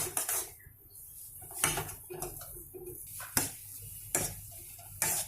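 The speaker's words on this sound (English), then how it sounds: "be wise while you are giving a fry to your boiled potatoes" Boiled potatoes are fried and mixed with masalas in a pan, with a spatula knocking and scraping the metal in a slow series of distinct clanks over a faint sizzle, close by with no voices.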